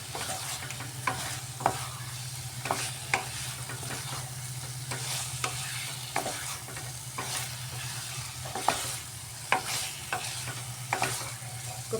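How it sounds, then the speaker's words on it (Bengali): Fried potatoes sizzling in spice masala in a pan, with repeated scraping stirs at an irregular rhythm over a steady fry hiss, close by and moderately quiet. "ভেজে রাখা আলু দিয়ে দিচ্ছি আলুটা দিয়ে ভালোভাবে মশলার সাথে মিক্সড করে এভাবে কষিয়ে নিতে হবে"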